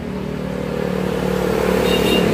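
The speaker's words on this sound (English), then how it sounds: "Sometimes it's noisy here and you have to scream over the traffic." Busy street traffic outside an apartment in Manila, Philippines: a loud, continuous engine rumble from passing vehicles swells louder over a couple of seconds, like a car or motorbike accelerating close by.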